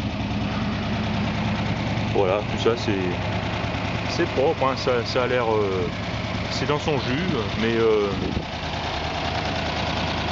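V8 engine of a 1957 Ford Country Wagon idling steadily, a low continuous rumble with a faint knocking texture, heard close up while people talk over it throughout.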